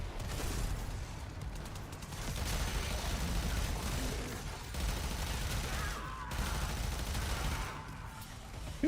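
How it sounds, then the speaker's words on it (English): Enemy gunfire in the sci-fi shooter Warframe, a dense, continuous rattle of distant shots and mechanical combat noise beneath game sounds, with no clear talking. "Oh shit, they're shooting at me."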